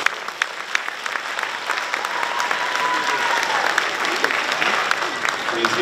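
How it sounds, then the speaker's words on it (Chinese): Steady applause from an audience at a tenth-anniversary dance school gala and awards show at Queen's University, honouring young peacock-fairy dancers; dense continuous clapping with a few louder claps, lasting throughout. "Please give us a warm applause for our young dancers, please."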